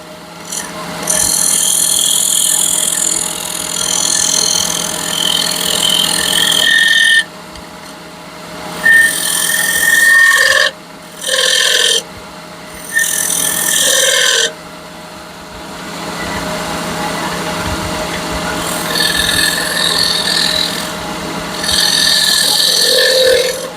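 A wooden edge on a bourbon and whiskey smoker is hand-planed, loud close rasping strokes in several long passes with short gaps, then lighter strokes near the end.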